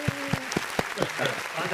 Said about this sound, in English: claps, I got the claps